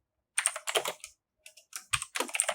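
Java code being typed on a computer keyboard, quick bursts of close, crisp key clicks separated by brief pauses, quiet and alone.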